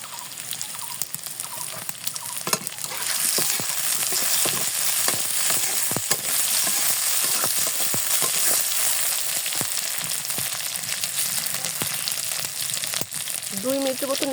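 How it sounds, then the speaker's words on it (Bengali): Potato pieces fry in oil in a pan, a loud continuous sizzle close up, broken by scattered clicks and scrapes as they are stirred, with no talking. "এখন আমি আলুগুলো ভেজে নিব।"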